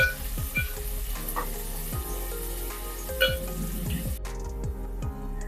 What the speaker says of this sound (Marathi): गॅस इथे फुल करून घेतलेला आहे फुल वरती कांदा आपल्याला चांगला लाल होईपर्यंत परतून घ्यायचा आहे